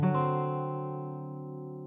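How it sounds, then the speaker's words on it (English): A single dominant 7th chord strummed once on a guitar in open D tuning and left to ring, sustaining clearly and fading slowly over two seconds. "There's our dominant 7th chord."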